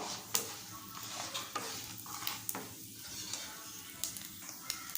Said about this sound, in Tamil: உளுத்தம்பருப்பு கடலைப்பருப்பு சேர்த்துக்கலாம் பெருங்காயம் ஒரு தடவை கலந்து விட்டுப்போம்